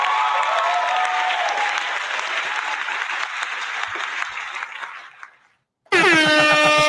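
A recorded applause effect of dense crowd clapping fades out over several seconds, a brief silence follows, then a loud blaring air horn blast cuts in abruptly.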